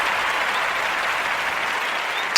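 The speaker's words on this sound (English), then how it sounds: "Don't stop clapping. Keep clapping." Studio audience applause on a live talk show, a steady dense wash of clapping from many hands that swells louder in the final moments.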